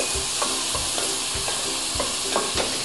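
Tomatoes are stirred into frying masala for a mango mutton dish, a loud steady sizzle up close with rhythmic spoon strokes scraping the pan about every half second.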